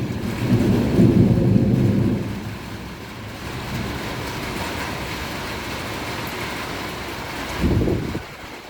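Rain pours steadily over Bengaluru while heavy rolls of thunder rumble loudly at the start and again near the end, the downpour hissing continuously in between with no voices.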